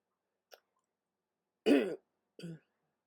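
A quiet click, then a single close cough from a person with a cold and tickly throat, followed by a shorter throat-clearing sound, surrounded by silence.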